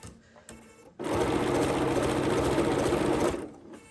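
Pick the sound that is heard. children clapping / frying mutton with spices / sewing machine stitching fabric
sewing machine stitching fabric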